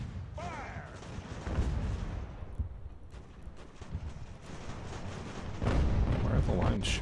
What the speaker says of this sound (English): At least we got some artillery over here to fire into them.